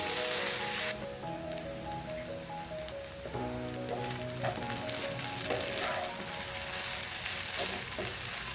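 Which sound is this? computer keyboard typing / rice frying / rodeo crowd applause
rice frying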